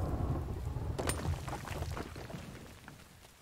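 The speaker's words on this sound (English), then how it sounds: "Rain, you can go away, please." Rain and thunder in the survival video game The Infected: a low rumble of thunder rolls under heavy steady rainfall, with sharper crackling strikes partway through before the rumble fades, and no voices.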